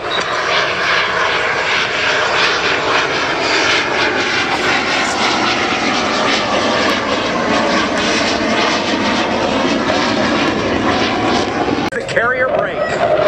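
Fixed-wing aircraft at an air show roars continuously overhead at full power, loud and steady throughout, with a brief clatter near the end.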